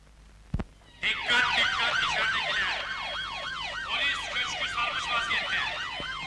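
Police sirens during a raid scene in a Turkish comedy film, a sharp click followed by overlapping wailing sirens that cycle rapidly up and down, loud and near, filling the rest of the clip.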